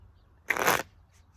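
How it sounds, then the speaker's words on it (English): Tarot cards shuffled in one quick riffle, a short crisp burst of papery flutter lasting about a third of a second, close and isolated against a quiet room. "You heard me shuffle. I'm doing it again."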